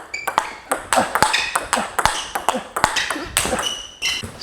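A table tennis ball struck repeatedly with a STIGA Cybershape Wood blade, giving crisp, snappy pings at an irregular rally pace, close and clear.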